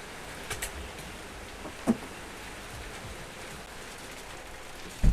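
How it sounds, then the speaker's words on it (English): Steady rain patters outside as a soft, even wash of drops, quiet and continuous, with a few brief louder taps and knocks nearby. "Can you hear the rain?"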